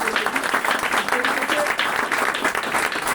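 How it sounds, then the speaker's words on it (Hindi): An audience at a Vestige marketing meeting breaks into loud, steady applause that fills the whole moment, with no one speaking over it. "मैं चाहूंगा एक जोरदार तालियां होनी चाहिए"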